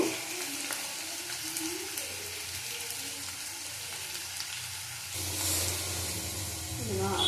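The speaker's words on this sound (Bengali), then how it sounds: "ভালো করে আমি এটা ভেজে নেব।" Prawns fry in oil in a pan for a spicy prawn dish, giving a steady close sizzle with a louder burst of hissing near the end.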